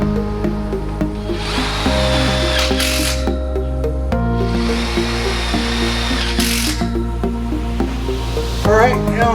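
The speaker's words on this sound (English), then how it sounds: "this is going to require some self-tapping screws and a drill" A power drill drives self-tapping screws into the metal frame of a 10 by 17 foot portable garage, with two long steady whirring bursts running loud and close across most of the stretch, with brief pauses between them.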